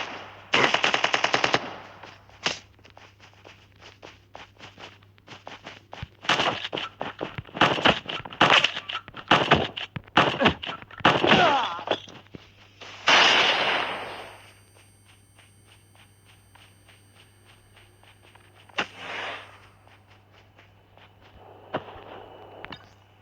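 Video game gunfire: rapid automatic bursts of sharp, loud shots in clusters, with pauses and single cracks between, over a steady low electronic hum.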